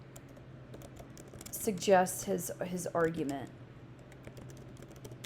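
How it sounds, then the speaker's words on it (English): Clumsy typing on a computer keyboard, light scattered key clicks throughout under someone speaking a short phrase in the middle. "I'm illustrating how terribly I am at typing sometimes."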